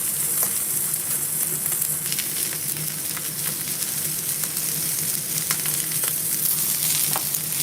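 Food sizzles steadily in a hot pan during live cooking, a dense constant crackle with occasional sharper pops and faint stirring, close and continuous with no one talking.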